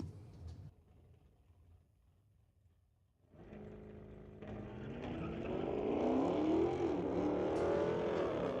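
A Corvette and a 2019 Dodge Challenger launch in a street-legal drag race, quiet idle giving way to loud engines roaring and rising in pitch as the cars accelerate away.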